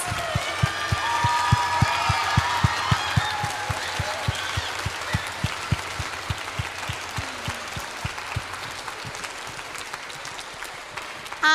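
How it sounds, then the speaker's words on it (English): Audience applause for a teacher at an elementary school spring concert, steady rapid clapping from a crowd, with thumping bumps and scattered voices and cheers mixed in. "Round of applause for Miss Rose"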